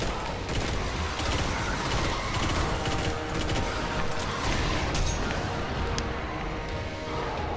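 Dense, continuous gunfire from the video game Destiny, with rapid overlapping shots and bursts filling the whole stretch at a steady, loud level.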